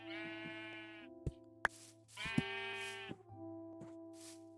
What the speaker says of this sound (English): I don't want to get these sheep before they scatter too far and wide.